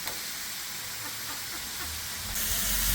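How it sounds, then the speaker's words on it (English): Shrimp on a barbecue grill in Australia give off a loud, steady broadband sizzle and hiss that surges louder near the end. "Shrimp on the barbie."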